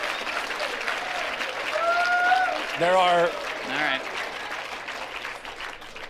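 Clapping from a small group fills the background of a casual chat, steady and fairly loud throughout, with a few spoken words and brief voices breaking in partway.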